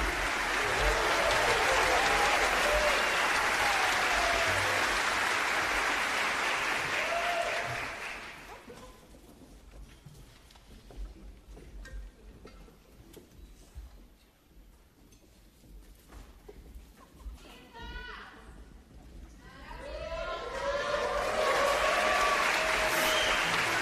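Concert audience applauding a conductor at a symphonic jazz show: loud sustained clapping for about eight seconds fades to quiet talk and rustle, then the clapping swells back up strongly near the end.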